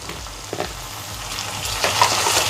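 Chopped tomatoes added to browned garlic sautéing in a pan for garlic kulambu, a close sizzle with a few stirring scrapes and spatters, growing slightly louder, no talking.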